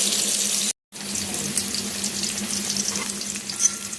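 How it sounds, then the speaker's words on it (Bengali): Steady oily sizzle of ash gourd frying with occasional stirring scrapes, close and fairly loud, briefly cut off for a moment near the start. "আমি এটা একটু লাল লাল করে ভেজে নেবো"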